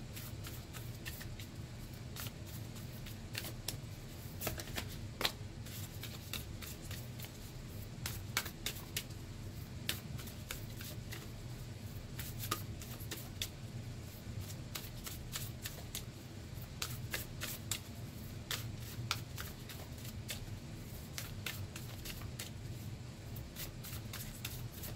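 Tarot cards being shuffled for a love reading, a continuous papery riffling and sliding with frequent crisp snaps, fairly close and steady throughout with no talking.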